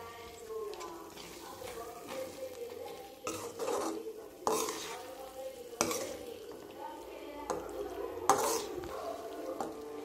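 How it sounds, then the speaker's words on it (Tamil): Prawns being stirred in a hot pan for a spicy thokku, with scraping utensil strokes and sharp clacks against the pan over a steady low sizzle, a voice talking throughout. "இறால் உடையாமல் கொஞ்சம் நல்லா மிக்ஸ் பண்ணி வச்சுக்கோங்க."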